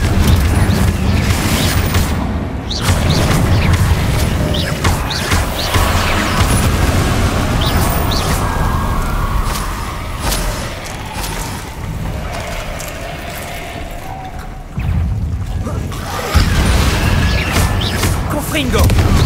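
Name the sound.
Confringo blast spell explosions from video game Hogwarts Legacy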